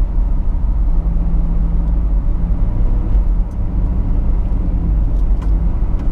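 Steady low engine rumble and road noise inside a moving vehicle with a 6-liter engine, a constant droning hum with a faint tonal whine, no talking.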